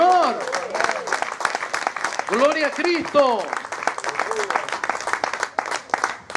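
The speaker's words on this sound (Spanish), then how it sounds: "Dele palmas al Señor." Church congregation clapping in praise during a Pentecostal-style service, steady rhythmic applause running throughout under a preacher's loud exclamations.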